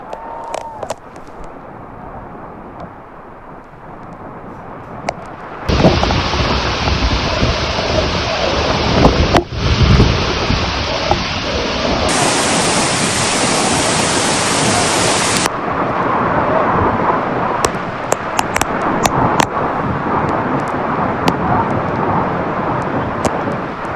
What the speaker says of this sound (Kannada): ಹೆಬ್ಬೆ ಜಲಪಾತದ ಒಂದು ದೃಶ್ಯವನ್ನು ನೀವು ಗಮನಿಸ್ತಾ ಇದ್ದೀರಿ